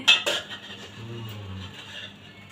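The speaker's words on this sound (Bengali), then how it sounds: "একটু না নাড়িয়ে দিই" Metal utensil clinking against a cooking pot while food is stirred, two sharp clinks followed by a soft scraping and stirring sound, close and alone.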